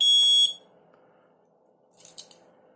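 A loud, shrill electronic tone from a 12-volt tilt alarm blares for about half a second, then cuts off; faint background hum follows, with a few brief high chirps near the end.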